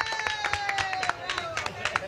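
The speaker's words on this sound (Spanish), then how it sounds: "Vamos a darle un aplauso." A small group of people clap together after a call for applause, with sharp, uneven hand claps over about two seconds and people talking along with them.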